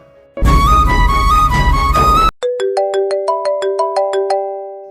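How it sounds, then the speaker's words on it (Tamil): A loud musical phone ringtone plays a bright melody for about two seconds, then gives way to a rising series of clean electronic chime tones. "கார்த்திக் தானே ஃபோன் பண்றான் சரிடா எடுத்து பேசு"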